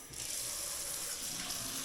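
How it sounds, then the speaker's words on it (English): Water runs steadily from a kitchen tap, a close, bright, continuous rushing splash that stays even throughout, with no talking over it. "I'm gonna run the water until it gets pretty warm"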